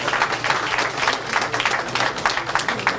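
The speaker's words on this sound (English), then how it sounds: "Please give them a big hand of applause." Steady audience applause fills the room, dense overlapping claps at a live stage event, continuous and fairly loud throughout with no voices on top.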